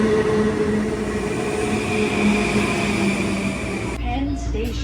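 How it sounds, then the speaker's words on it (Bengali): New York subway train riding along, with a continuous loud rumble and rattle of the car filling the space, steady throughout, the roar easing slightly near the end. "আমরা ট্রেনে বসেছি"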